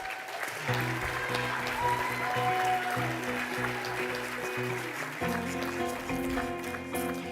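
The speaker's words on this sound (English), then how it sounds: "Okay, give her a round of applause." Applause at a mystery-writers' awards dinner for a guest of honor, steady clapping beneath sustained instrumental music tones that carry through the whole stretch.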